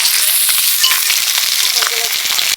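Snakehead fish curry with green banana sautéing in a little oil in a pan after a splash of water, a loud close crackling sizzle with stirring scrapes, cutting off abruptly at the end.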